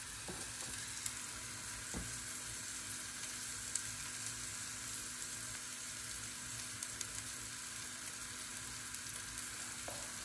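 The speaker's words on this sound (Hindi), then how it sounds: "और इसको पैन में मैं डालती जाऊंगी।" Handi kebabs frying in hot oil in a pan, a steady close sizzle and crackle that runs the whole time with a few soft clinks, and no talking.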